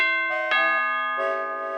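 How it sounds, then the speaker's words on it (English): A cartoon doorbell rings out a bright two-tone ding-dong chime, loud and close, with ringing harmonic tones that fade between notes. "Sounds like a doorbell."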